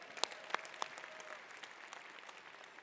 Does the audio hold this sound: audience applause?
yes